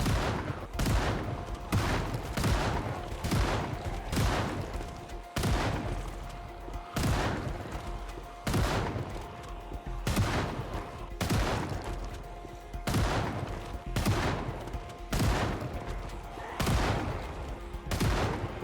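Shotgun blasts ring out in the zombie survival video game Project Zomboid. About a dozen loud, sharp shots come at a fairly regular pace, each with a short echoing tail.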